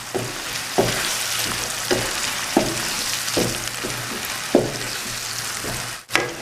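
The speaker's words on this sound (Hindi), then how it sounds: "अब इसको मज़ीद 4 से 5 मिनट के लिए अच्छी तरह भून लेंगे।" Whisked yogurt fries with chickpea masala in ghee in a pan for Lahori chikar cholay, sizzling steadily while a spoon scrapes and stirs in regular strokes about once a second, ending in a louder clatter.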